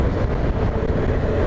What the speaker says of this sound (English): the deep rumble from underneath the back, the exhausts